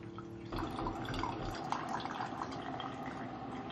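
Hot water pours from an electric kettle or dispenser, starting abruptly as a steady close trickling stream that runs on evenly with no talk.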